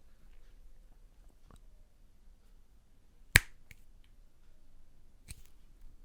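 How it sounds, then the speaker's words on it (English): A single sharp finger snap rings out during a close-up coin magic trick in a quiet room, followed by a second fainter snap a couple of seconds later, with faint small clicks between. "when I snap my fingers, something will happen there"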